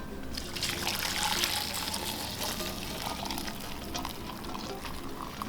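Broth pours into a cooking pot, a continuous steady liquid trickle and splash lasting a few seconds, fairly close and even in level, with no talking.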